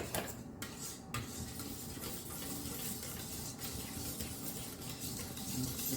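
A spoon stirs chocolate pie filling in a bowl, producing steady close scraping and soft clinking against the dish, continuous and moderately loud with no talking.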